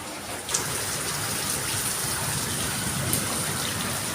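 Heavy rain floods a street in Ram Thakur Colony, Jadavpur, Kolkata, with a dense, steady hiss and gush of water running on without a break.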